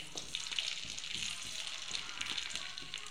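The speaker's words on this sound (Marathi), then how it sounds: "एक पळी तेल, त्याच्यामध्ये थोडीशी गोभी टाकायची।" Cauliflower pieces fry in a ladleful of hot oil, a faint, continuous sizzle with light crackles, close by and steady.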